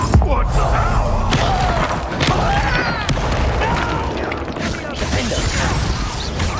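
Fire spell Incendio cast in the Hogwarts Legacy video game during a duel, a dense roaring burst of magical flame with thuds and clanks, continuous and loud amid game combat noise, with voices speaking.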